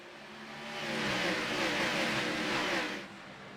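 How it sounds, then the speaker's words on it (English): Race car engines roar and accelerate at Dover in a stock car racing video game, a steady rising drone that swells and fades over a few seconds with no talk over it. "Really good launch out of Douglas Henry"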